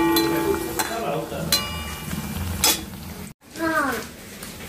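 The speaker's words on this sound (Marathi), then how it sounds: "इकडे मस्त गरम गरम भजे तळते मी" Bhaje fritters frying in hot oil in a home kitchen, a steady crackling sizzle with clinks and scrapes of a utensil against the pan, a brief dropout near the end and faint voices in the background.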